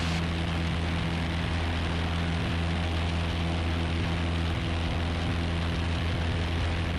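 Steady propeller and engine drone from inside a Piper Warrior light airplane climbing out after takeoff, loud and continuous with a constant tonal hum throughout and no talk.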